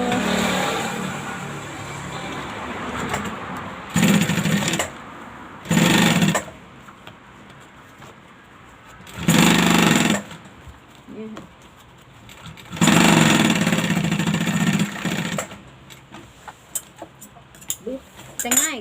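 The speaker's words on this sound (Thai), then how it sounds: "เย็บขอบก่อน เทคนิคนี้นะคะเอา" A sewing machine stitching along a fabric edge in several loud, whirring bursts of a few seconds each, separated by pauses where someone talks quietly.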